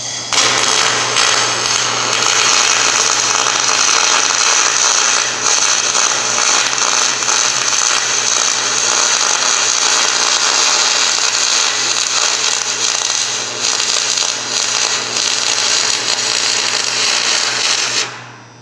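MIG welding with a spool gun on a three-phase power source, a loud steady crackling arc hiss held continuously for about eighteen seconds before cutting off at the end.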